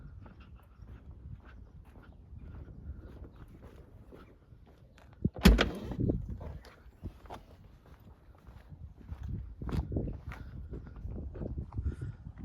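Door of a 2019 BMW i8 Roadster opening, a sharp mechanical latch click followed by a brief rush of movement, set among soft shuffling footsteps and low outdoor ambience.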